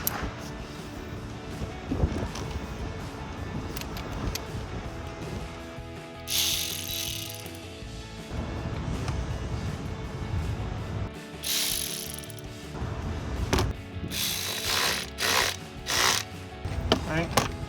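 Ratchet with a 5/16 socket tightening an intake clamp on a 2015-2020 Dodge Charger SRT Hellcat cold air intake, giving repeated close clicking bursts in several runs with short pauses between.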